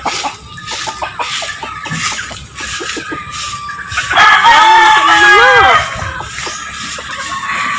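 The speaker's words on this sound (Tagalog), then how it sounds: "Yan, dahamig manok." Backyard chickens cluck in short bursts close by, and a rooster lets out a loud, wavering crow partway through, with a voice speaking among them.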